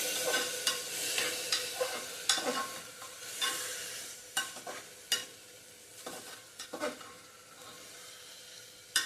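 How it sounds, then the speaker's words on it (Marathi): Soaked whole masoor lentils being sautéed in a pan, a soft sizzle punctuated by repeated spoon scrapes and clinks at an irregular pace, close but not loud, with no talking. "मसूर घातल्यानंतर पण थोडंसं परतून घ्यायचं आहे"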